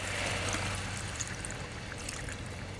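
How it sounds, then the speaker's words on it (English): About a cup of water pours into a pot of pork belly already seasoned with cooking sherry, a close, steady splashing trickle running for a few seconds. "And we put about a cup of water in it."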